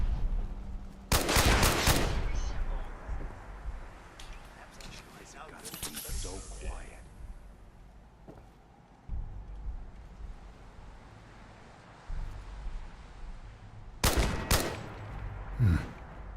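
Hostile turrets in Fallout 4 let off bursts of gunfire, with loud clusters of shots near the start and again toward the end, separated by quieter game ambience and talk.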